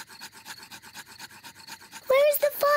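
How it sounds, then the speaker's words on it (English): Two sticks rubbed together by hand to light a campfire in a cartoon scene, a fast rhythmic rasping scrape repeating steadily for about two seconds before a loud voice cuts in over it. "Daddy Pig is rubbing the two sticks together to light the campfire."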